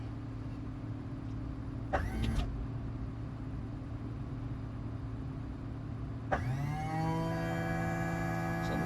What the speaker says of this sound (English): I can hear that the landing gear coming down.